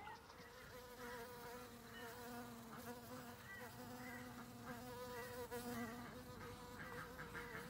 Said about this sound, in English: that was actually a little bee that just flew past me then.